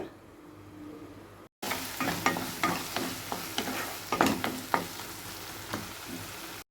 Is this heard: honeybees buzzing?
no